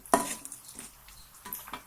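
Mustard seeds, urad dal, chana dal and dried chillies tempered in hot oil in a kadai, giving scattered crackles and pops with light clinks of metal, one sharp burst near the start then softer spits and taps.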